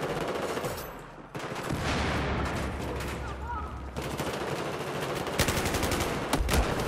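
Battlefield 1 gunfire rattles almost nonstop, with dense machine-gun bursts and single shots layered over loud battle noise, some near and some distant, throughout.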